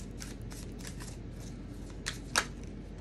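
Tarot cards are shuffled in a steady run of soft, papery riffles, close and fairly quiet, with one crisper snap near the end and no talking.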